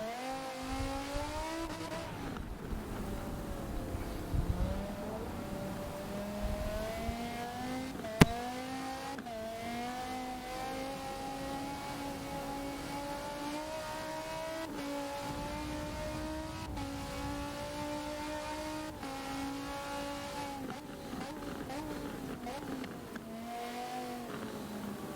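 Hypercar racing a final lap in the wet at Silverstone in a racing video game, a continuous engine drone rising and falling through gear changes and corners, steady and alone.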